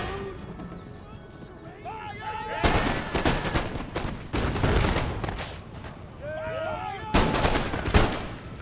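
Musket volleys crack out in a video game battle, flintlock lines firing in bursts with booming artillery, horses whinnying and hooves clattering; dense, loud bursts around three, five and eight seconds over a constant din of battle noise.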